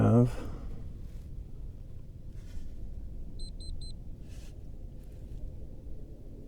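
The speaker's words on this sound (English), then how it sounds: "I have no idea what all that beeping is." Three quick, high electronic beeps in a row sound faintly over a low rumbling background.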